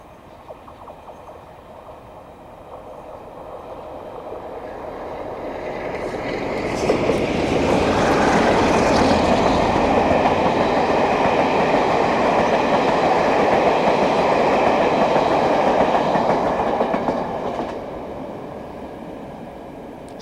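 A Class 47 diesel locomotive in Virgin livery hauls a diverted train past, its engine and rolling wheels building to a loud, steady roar that holds for several seconds before easing away.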